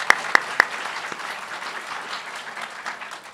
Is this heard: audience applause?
yes